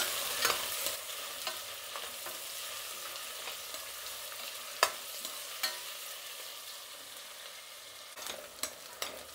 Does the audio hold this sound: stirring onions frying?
yes